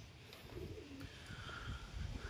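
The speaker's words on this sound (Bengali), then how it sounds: "এ হচ্ছে কবুতর" A pigeon cooing close by, soft low throaty coos repeating over a murmur of background noise, with no speech.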